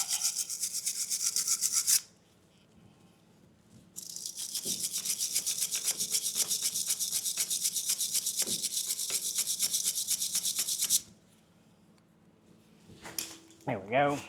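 A stiff brush scrubs the dust boots on the brake caliper pistons of a 200 Series Land Cruiser during a front pad and rotor job, in two long rapid scratchy bursts separated by a pause, close and moderately loud, with faint clunks afterward.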